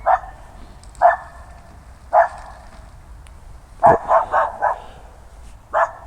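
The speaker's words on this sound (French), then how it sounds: "il y a des chiens qui aboient" Dogs bark at a distance, single sharp barks spaced out and then a quick run of several, each standing alone against a quiet background.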